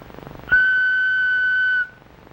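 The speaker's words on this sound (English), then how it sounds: "When you hear me blow on this whistle" A single loud, steady whistle blast, close by, held for over a second before cutting off cleanly.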